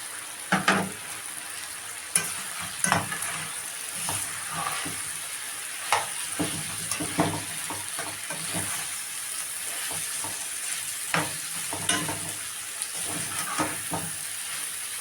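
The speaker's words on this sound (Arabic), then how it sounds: "هنشم ريحه الثوم، وبعد كده هننزل عليها بالبصل، تمام. مقطعين البصل جوليان" Julienned onions fry with garlic in a pan under a constant sizzle, with repeated scraping and clattering stir strokes spread irregularly across the whole stretch.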